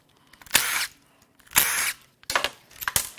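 A power tool zips bolts out of a Volkswagen five-cylinder engine during a teardown, with three loud whirring bursts of about a third of a second each and a shorter final burst, close up and with no talk.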